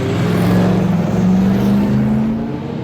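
Race cars including a Ginetta G57 and a red and white CN prototype circulate at Spa-Francorchamps, a steady loud engine drone with a rising whine that fades slightly near the end, no talk.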